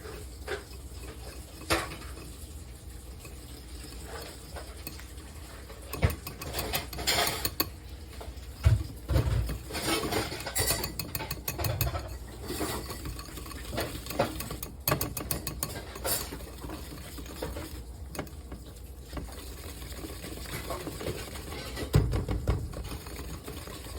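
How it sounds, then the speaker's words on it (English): A whisk clatters and scrapes against a bowl, mixing pastry cream for candy corn donuts into a pale yellow custard, with rapid irregular metallic ticks and rattles, fairly close and steady throughout without talk. "Whisk this together here."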